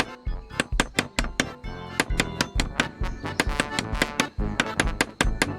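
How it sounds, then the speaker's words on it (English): Knocking on a solid oak coffin lid in Monkey Island 2 Special Edition, a rapid run of hollow wooden thunks repeating in an uneven, insistent rhythm, close and loud with no talking. "I hear you knocking up there."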